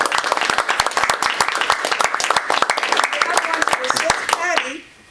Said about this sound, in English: So clap!